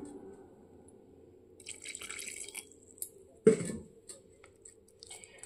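Water poured slowly into teler pitha batter while mixing, faint trickles and drips with one sharper splash midway, close and quiet with no voices.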